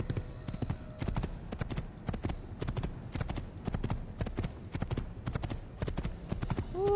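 Horse hooves clip-clop in a rapid, steady rhythm during Assassin's Creed gameplay, close and continuous, with a short whinny at the very end.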